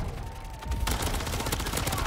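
Gunfire from a turret in Call of Duty MW3 Zombies: a sustained, loud, dense stream of rapid shots that swells after the first second and carries on through the rest of the mix.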